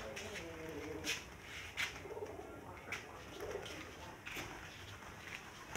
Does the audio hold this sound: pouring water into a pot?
no